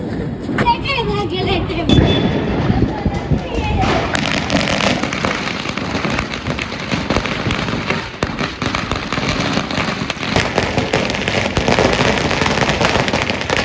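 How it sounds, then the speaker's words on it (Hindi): A 2000-shot firecracker string (loom) set off for Diwali, a loud unbroken crackle of rapid-fire bangs that runs the whole time, with voices faintly mixed in. "अभी 2000 वाली लूम फोड़ेंगे"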